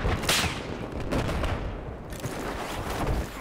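Anti-aircraft fire in Battlefield 4, a loud and continuous roar of rapid shots and blasts that keeps going with little letup, close by and without any talk.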